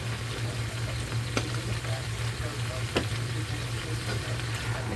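Eggplant caponata with crushed red pepper stirred in a pan, a steady low sizzle under continuous scraping, with a couple of sharp utensil knocks against the pan.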